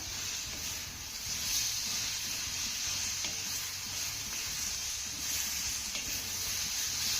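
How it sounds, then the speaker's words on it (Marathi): Grated ridge gourd cooks slowly in a pan over a low flame, giving a steady, soft sizzle and faint hiss that runs evenly throughout with no talking. "लो फ्लेमवरती आपल्याला हा दोडका दोन ते तीन मिनिटं चांगला शिजवून घ्यायचा आहे"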